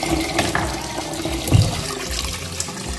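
Water running and splashing while rice is washed in a home kitchen, a continuous gushing flow with a louder slosh partway through, close and alone.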